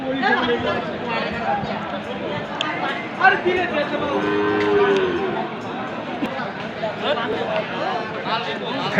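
A Sahiwal bull calf lows at a crowded cattle market, a drawn-out moo rising amid constant chatter and nearby talking voices.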